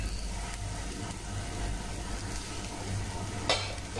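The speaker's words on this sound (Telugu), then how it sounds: "ఈ ఉల్లిపాయల్ని కొంచెం వేగనివ్వాలి। ఇలా కొంచెం ఫ్రై అవనివ్వాలి।" Chopped onions frying in hot oil for Kuwait-style pagga fry, a continuous close sizzle and hiss with soft stirring scrapes and one brighter clatter near the end, no voices.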